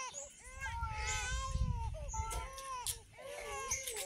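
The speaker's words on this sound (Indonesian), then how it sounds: "Terdengar suara bayi yang sedang menangis." A baby cries in wavering, high-pitched wails, pausing briefly between bursts, fairly close against a low background rumble.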